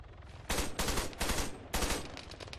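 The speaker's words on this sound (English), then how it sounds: "Moving and shooting, using the old burst fire again." Burst-fire rifle gunfire from the shooter game Arma 3, with four loud, closely spaced bursts of rapid shots, each clipped short and separated by brief pauses, with no talk.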